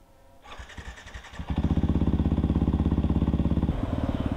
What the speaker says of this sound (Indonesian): Kita panasin motor dulu.